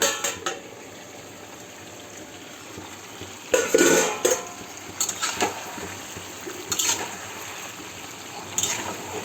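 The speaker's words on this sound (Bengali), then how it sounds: "এভাবে ভালো করে কষিয়ে নেব আলু আর মাংস" Potatoes and meat sautéing in a pan with onion, a soft continuous sizzle under intermittent clattering strokes of a spoon against the pan, growing busier in the second half.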